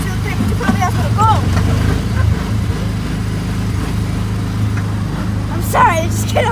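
Car engine droning steadily and loudly from inside the cabin at Disneyland, with no clear rise in pitch, while people talk over it throughout.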